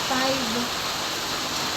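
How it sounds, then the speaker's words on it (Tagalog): Heavy rain falls outside a house as steady, broadband hiss filling the whole clip, with a brief faint voice-like tone near the start. "napakalakas ang ulan po sa labas"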